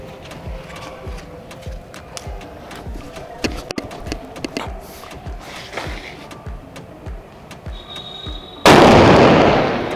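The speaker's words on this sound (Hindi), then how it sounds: "क्या भयंकर आवाज आई है, देखो यहां से सीमेंट गायब कर दिया, तो ये तो बहुत ही ठाड़ा बम था यार" Diwali Kinder Joy firecracker bombs go off outdoors: a rapid run of sharp crackling bangs is followed by one loud, close blast that leaves a sustained roaring hiss.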